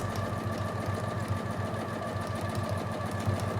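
A sewing machine stitching through quilting fabric runs with a steady, rapid mechanical chatter at close range, its rhythmic needle beat continuing evenly without a break.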